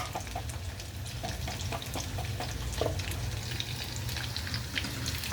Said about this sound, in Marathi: आणि थोडेसे फ्राय करून घ्यायचे तेलामध्ये